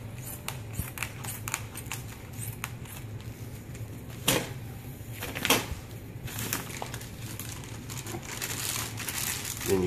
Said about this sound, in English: Cut your bag.